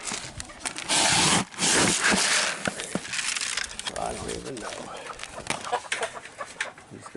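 Chickens and other homestead fowl cluck around feeding time while bags of feed rustle and crinkle up close. A person talks between the bird calls and handling noises.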